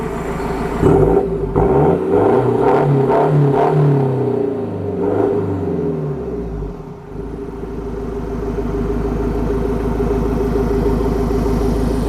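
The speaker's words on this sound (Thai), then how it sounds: "ลูกค้าได้ยินเสียงท่อไปแล้วใช่ไหมคะ" A Ford Ranger pickup truck's modified exhaust blares as the engine revs hard several times, loud and close, then settles into a steady, throaty idle rumble.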